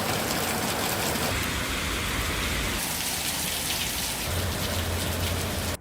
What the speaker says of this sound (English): When it rains in Singapore, it really does rain.